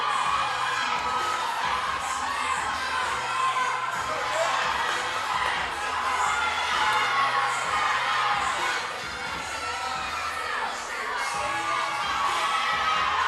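Spectators at the Burn Boot Camp Athlete Games 2024 fitness competition cheer, shout and whoop continuously, a loud, dense crowd roar with high excited voices swelling and dipping throughout.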